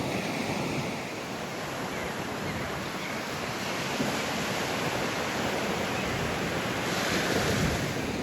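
Ocean surf breaks and washes steadily onto a packed-sand beach at False Cape, Virginia, as the tide comes in, a loud continuous roar with wind buffeting the microphone and no voices.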